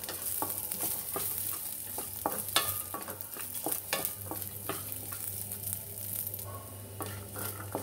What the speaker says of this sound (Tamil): தேங்காய் போட்டு வறுத்துக்கலாம் அந்த நெய்யில